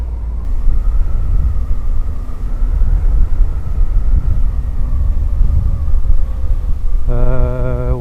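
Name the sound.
Suzuki V-Strom 800 DE motorcycle riding, shifting with quick shifter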